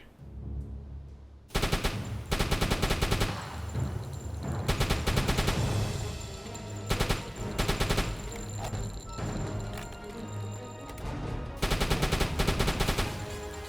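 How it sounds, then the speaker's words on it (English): A submarine deck gun in the UBOAT game fires armor-piercing shells at a ship's waterline, loud repeated bursts of booming shots separated by short gaps. "We're just gonna shoot it along the waterline here."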